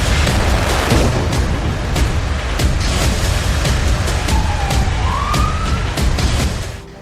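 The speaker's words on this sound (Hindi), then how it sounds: "यहाँ की तेल रिफाइनरी में धमाका इतना जोरदार हुआ कि पूरा इलाका थर्रा उठा" Blasts at an oil refinery in Krasnodar, Russia, heard as a series of sharp, loud booms and cracks over a constant roar, with a siren rising and wailing near the end.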